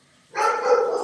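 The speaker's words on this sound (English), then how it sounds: "don't know what the dog's barking for." A dog lets out one short, fairly close bark that rings on briefly after a moment of quiet.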